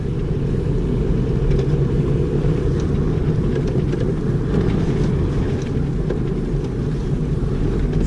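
A manual-transmission car pulls hard in third gear, its engine a steady, loud, continuous low rumble with wind noise over it, nothing else standing out.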